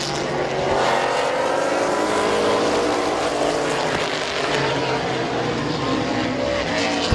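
Race cars roaring around the oval at Midvale Speedway during a heat race, a steady loud wall of engine noise near and continuous throughout.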